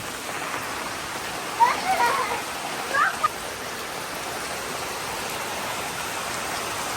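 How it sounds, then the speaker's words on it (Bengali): Heavy rain falls steadily as a broad, even wash of noise, with a few brief louder splashes and faint voices in the background. "কি পরিমাণের বৃষ্টি বৃষ্টিতে গোসল করবা নাকি"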